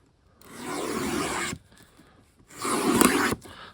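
A blade slicing through the shrink wrap and cardboard of a Revell 1967 Corvette 1/25 scale model kit box, two long scraping strokes close up with a short pause between them.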